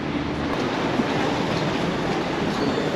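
Steady rumble and rolling noise of a metro train at an underground subway station, loud and continuous throughout with a broad, even roar and no talking.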